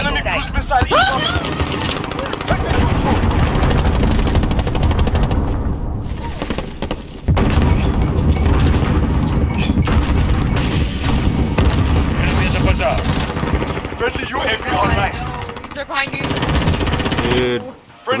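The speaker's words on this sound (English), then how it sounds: "Enemy cruise missile incoming." Call of Duty gameplay with dense, loud explosion blasts and deep rumbling booms that run almost continuously, cut by a short lull near the middle, with voices chattering through the din.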